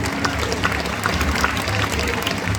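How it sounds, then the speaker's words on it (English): Audience at a zoo crocodile show claps steadily for a couple of seconds, a dense, fairly loud patter of many hands with a murmur of crowd noise underneath. "Give it a bit of a clap for him."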